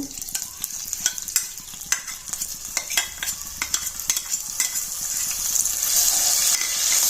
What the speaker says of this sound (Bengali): এখন এখানে আমি পেঁয়াজ বাটাটা দেব।